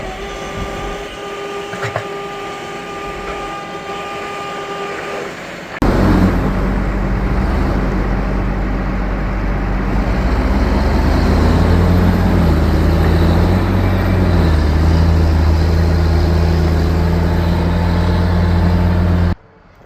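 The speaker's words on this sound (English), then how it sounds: "Here's my youngest son, Alex, using our tractor and dump cart." A tractor rumbles steadily up close, pulling a homemade dump cart built from an old truck bed on a farm; after a quieter opening with a faint hum, the engine noise jumps loud and stays constant.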